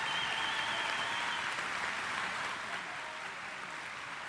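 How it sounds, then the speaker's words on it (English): Crowd at a high school graduation ceremony applauding the graduates, steady sustained clapping that fades slightly toward the end. "Let's give them all a big round of applause."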